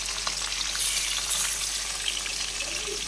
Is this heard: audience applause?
no